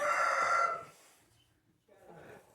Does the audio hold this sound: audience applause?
no